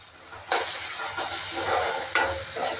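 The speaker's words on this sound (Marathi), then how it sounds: "थोडीशी कोथिंबीर टाकते फोडणीमध्ये." Fresh chopped coriander dropped into hot oil tempering for a Maharashtrian pithla, giving two sharp bursts of loud sizzle followed by steady frying crackle and stirring, close by with no talk.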